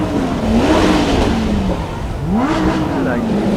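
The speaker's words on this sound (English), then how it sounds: "huge engine at the front, V8, and the exhaust are facing you, ladies and gents, so let's hear it" A front-engined V8 supercar revs up and down twice at a car show, a loud rumbling exhaust roar, with a voice talking over it.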